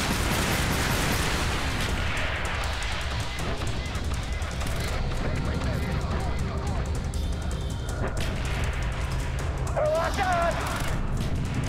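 Continuous heavy gunfire and rumbling explosions from Call of Duty Black Ops fill a dense, loud battle mix with no letup, and a voice talks over the chaos.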